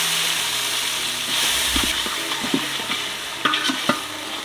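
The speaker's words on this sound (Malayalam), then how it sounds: "അപ്പം വെളിച്ചെണ്ണ ഒഴിച്ചു. അരച്ച് വെച്ച് നമ്മുടെ സവാള പേസ്റ്റ് കുറച്ച്" Ground onion paste frying in coconut oil for Punjabi-style chicken gives a loud, steady sizzle, with a spoon stirring and knocking against the pan several times toward the end.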